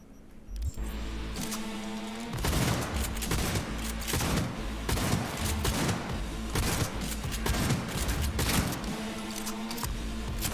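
Gunfire in the video game Cyberpunk 2077: loud, dense bursts of automatic shots, with mechanical clatter and booms, run almost without pause through a fierce firefight.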